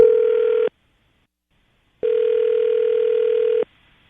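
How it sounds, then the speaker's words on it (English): A telephone line gives two steady electronic tones, a short one then a longer one after a pause, clear and alone with no talking. "The hardest part of these is me dialing phone numbers."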